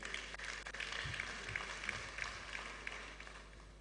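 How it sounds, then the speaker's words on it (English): Audience at a university nursing induction ceremony claps in a scattered, moderately distant round of applause with faint crowd murmur. "please another round of applause for him."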